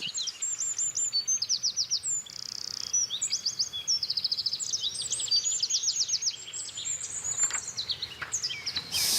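Common chiffchaff and wren sing together outdoors, with bright repeated chirping phrases and rapid trills layered throughout, steady and fairly close over a faint background hiss.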